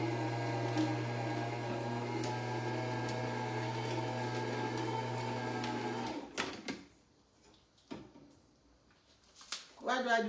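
A blender processing beetroot for juice whirs with a steady, loud motor hum for about six seconds, then cuts off, leaving quiet scattered handling sounds.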